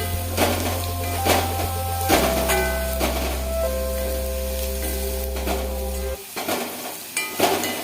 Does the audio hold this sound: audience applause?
no